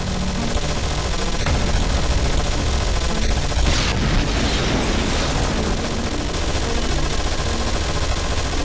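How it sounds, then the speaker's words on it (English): Squad gunfire in the video game Anomaly 2, a dense, continuous roar of rapid shots and booming impacts, loud and unbroken throughout with mechanical clatter mixed in. "But if they keep firing, their rate of fire increases."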